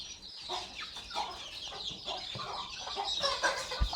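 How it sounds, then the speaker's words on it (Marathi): Chickens clucking steadily at a poultry farm in Halni, a busy flock heard close up with overlapping clucks and squawks throughout, no talking. "छान आहेत पण कोंबड्या मस्त आहेत"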